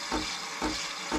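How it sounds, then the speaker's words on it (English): Steady hissing, gurgling froth from a capsule coffee machine frothing milk for a cappuccino on its maximum froth setting, with soft rhythmic pulses repeating about every half second, close and moderately loud. "That's the coffee being made right now."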